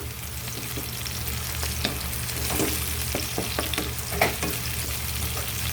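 Chili peppers fry with garlic in a pan for garlic string beans, a continuous close sizzle broken by light scraping and stirring clicks at an uneven pace.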